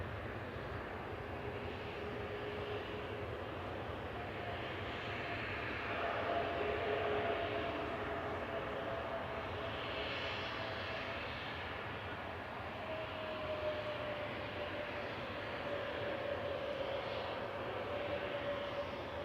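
A Turkish Airlines Airbus A321neo on flight 1991 from Istanbul touches down on runway 23 right at Manchester Airport, its engines a steady, fairly distant roar that swells slightly midway and holds alone throughout.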